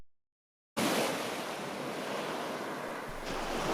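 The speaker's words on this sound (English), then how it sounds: "I thought you might like to see the waves beating against the shore. It's a nice rhythmic sound, isn't it?" Waves beat against the shore of a bay in a continuous loud wash of surf, broken only by wind buffeting the microphone, after a brief silent start.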